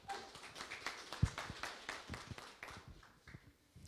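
Municipal lecture audience in Peru applauding a licensed speaker before his talk: a short round of scattered hand claps, fairly close, with a few louder individual claps and fading toward the end.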